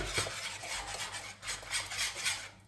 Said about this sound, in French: ça fait à peu près 4-5 minutes que je mélange, là, commence à épaissir